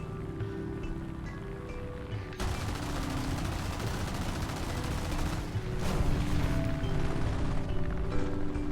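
Aircraft cannons and machine guns fire in sustained, dense bursts during a dogfight in the War Thunder video game, a loud continuous roar of gunfire that starts abruptly after a quieter engine drone and intensifies near the end.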